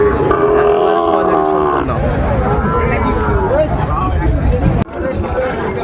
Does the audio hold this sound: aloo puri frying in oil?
no